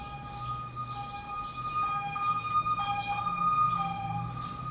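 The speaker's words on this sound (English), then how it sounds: "They're changing the sirens to sound like Europe." A European-style two-tone emergency siren alternates steadily between high and low pitches, sounding moderately distant over a low traffic rumble.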